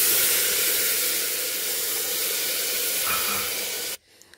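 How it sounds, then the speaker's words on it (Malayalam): Water poured into a hot pan of egg curry masala in a pressure cooker sets off a loud, steady hiss of steam for about four seconds, then stops abruptly. "ഇന്നിപ്പോൾ നമുക്കിനി വെള്ളം ഒഴിച്ചു കൊടുക്കാം. നമുക്ക് ആവശ്യമായിട്ടുള്ള വെള്ളം ഒഴിച്ചു കൊടുക്കാം."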